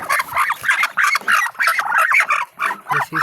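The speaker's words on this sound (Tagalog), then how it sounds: "May sisiw na oh, nagbuto." Newly hatched chicks peep in rapid, high, repeated chirps, several birds close by calling almost continuously in short bursts.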